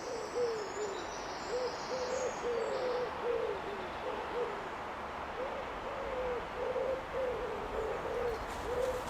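Owl-like hoots repeat outdoors in a steady series of soft, mid-pitched calls near a residential estate, heard over a constant wash of background hiss with no voices present.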